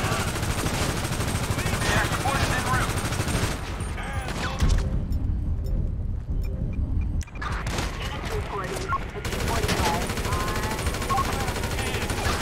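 Mini AK automatic fire in GTA Online comes in dense, continuous bursts with loud booming impacts and game noise, briefly thinning to a quieter gap mid-way before the rapid shots resume.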